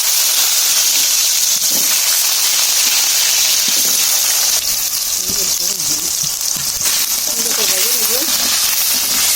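Potatoes frying in very hot oil, a loud, steady sizzle and hiss that fills the whole stretch, with a few faint voices in the background.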